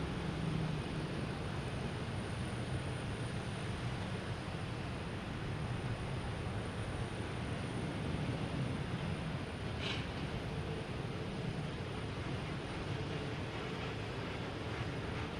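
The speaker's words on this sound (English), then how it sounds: "We have American Airlines heading to JFK, E175." American Airlines Embraer E175 operated by Republic Airlines at Boston Logan Airport, a faint, steady, distant jet rumble holding level throughout without any breaks.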